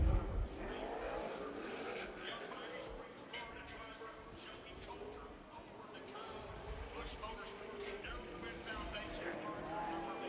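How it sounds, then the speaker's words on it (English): NASCAR Camping World Truck Series race trucks running on the dirt track at Eldora Speedway in 2013 make a steady, distant engine drone with crowd bustle, mostly under close talking throughout. "the first trucks are on track right now"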